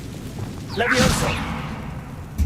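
A Levioso levitation spell is cast in Hogwarts Legacy, a rising magical whoosh with a shimmering swirl that swells around the middle and then fades, set against a low game ambience.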